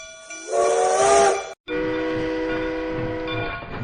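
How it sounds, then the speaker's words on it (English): A train sounds its horn loudly twice: a shorter blast, a brief pause, then a longer sustained blast over a low rumble. "This train is short."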